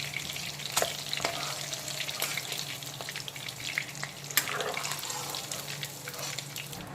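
Bhola fish sizzle in hot oil in a home kitchen, a steady soft crackle and fizz broken by a few sharp pops and clinks, heard fairly quietly with no one talking.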